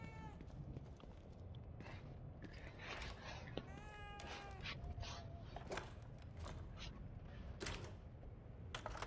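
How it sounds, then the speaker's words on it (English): A cat meows several times in the horror game The Evil Within 2, the mewing calls rising and falling over a dense ambient game backdrop with mechanical creaks. "The cat. Still a mystery, like cats often are."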